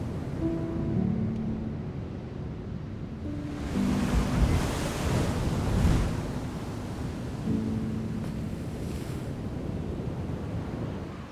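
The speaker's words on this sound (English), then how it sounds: "The ocean is alive." At the mouth of the Gironde estuary, ocean surf surges and recedes in broad washes while wind buffets the microphone, the rushing noise swelling and easing over several seconds.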